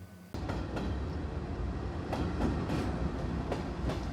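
A passenger train rolls into Ivano-Frankivsk station with loud, steady rumble and rhythmic wheel clatter, with no talk over it.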